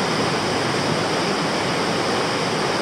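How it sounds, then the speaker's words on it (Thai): Hot spring water gushing steadily from an onsen pipe at Nyuto Onsen, a loud, close, unbroken rushing roar with no talking. "อันนี้เป็นท่อออนเซ็นนะครับผมเอาน้ำมาจากออนเซ็นเลย"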